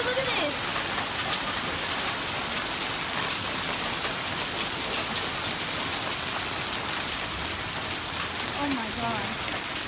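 Hail falls outdoors in a dense, steady, even patter that continues throughout, with voices faintly audible under the noise.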